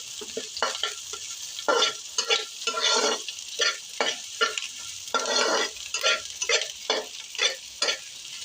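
Onions fry in a pan for chicken biryani, their hiss rising and falling in bursts as a utensil stirs and scrapes through them. The sound is close and moderately quiet, with no talking.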